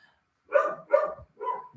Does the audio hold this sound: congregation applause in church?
no